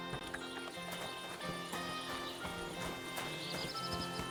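A horse in the medieval video game Kingdom Come Deliverance II whinnies over steady clip-clop hooves, with rhythmic hoof thuds and a neigh near the end, amid game ambience.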